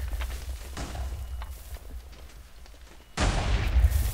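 A TNT cannon fires in Minecraft: a rumbling, crackly run of low explosions, then a louder, denser burst of blasts near the end.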